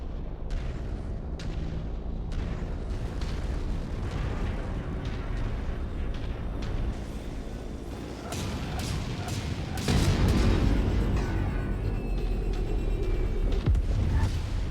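Inside MechWarrior 5, a destroyed mech explodes amid dense battle noise of continuous rumbling blasts and sharp weapon cracks, swelling into a louder, sustained roar of explosion near the end.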